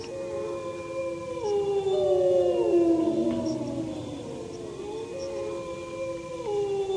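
A pack of wolves howls in long overlapping wavering tones that rise and fall together, sustained and fairly close against a quiet background with no talking.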